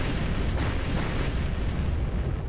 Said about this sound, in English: A series of explosions destroyed the entrance where we escaped.